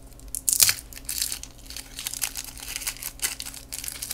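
Crisp, crackling crunches from biting into a crunchy Japanese chocolate snack, a sharp loud bite followed by repeated smaller crunches and crinkles up close, with no voices.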